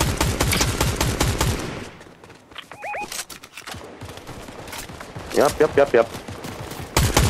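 Gunfire in Fortnite played in VR, with dense rapid bursts of shots at the start, scattered cracks in the middle and a cluster of loud shots near the end, mixed with game sounds and a short spoken word.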